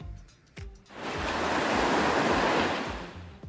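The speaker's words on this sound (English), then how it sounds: "it can find the sound of waves" Ocean waves wash onto a beach. A few low thuds come first, then a broad surf roar swells in and holds loud and steady before easing off near the end.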